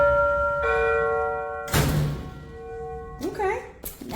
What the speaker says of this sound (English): we should check and see what the doorbell sounds like